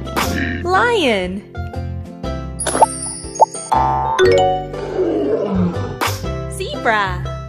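A lion roars in a children's animal-learning video game, the growling call rising over bouncy music with plopping and ding-dong effect sounds around it.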